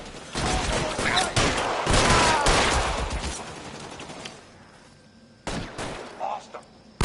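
Sustained rapid gunfire from a shootout in LA Noire, a loud dense volley for several seconds that thins out, followed by a few separate shots near the end.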